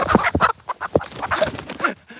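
Chickens on a rare fruit tree farm cluck and squawk up close in quick, choppy bursts, loud and continuous, with no talking.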